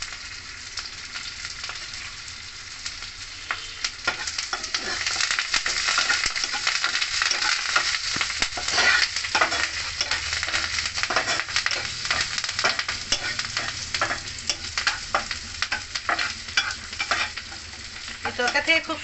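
Chopped green chillies and curry leaves fry in hot oil with a bright, crackling sizzle and frequent spatula scrapes and stirs, building louder after the first few seconds and staying close, no talking.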